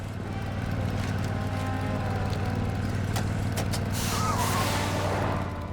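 A vehicle drives in World of Warcraft: The War Within with a steady engine drone and a hissing, air-brake-like release near the end, loud and continuous and without voices.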